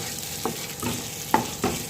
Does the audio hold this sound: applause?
no